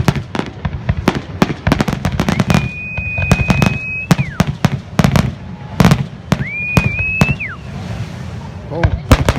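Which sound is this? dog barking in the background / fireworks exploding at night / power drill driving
fireworks exploding at night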